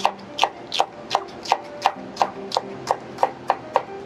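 A knife slices through a green bell pepper in about a dozen crisp, evenly spaced cuts, close and distinct, each one landing with a sharp tap and nobody talking.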